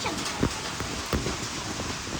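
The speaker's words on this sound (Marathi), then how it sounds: "एकदम तुफान पाऊस पडतोय" Heavy stormy rain pours down in a steady, dense hiss with wind, filling the air continuously with a couple of soft thumps, moderately loud and without talk.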